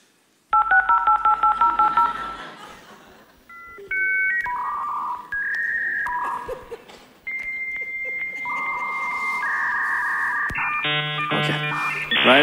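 Old computer dial-up modem connecting: loud touch-tone dialing, then a sequence of shifting handshake tones, whistles and buzzing screeches that carry on to the end.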